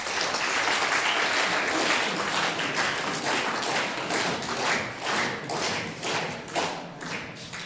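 An audience at a government model high school farewell ceremony in Havelian applauds steadily, dense clapping that holds for several seconds and then slowly thins out.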